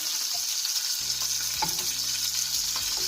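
Peppers frying over medium heat in a pan for a Turkish minced-meat şakşuka, a steady loud sizzle with occasional stirring clatter and a low hum underneath.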